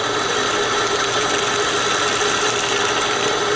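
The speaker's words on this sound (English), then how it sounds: "I'm going to drill a couple of holes." A drill bit boring holes into a steel bar, a steady continuous whine and grinding rumble that holds at a constant loud level throughout, with no talking.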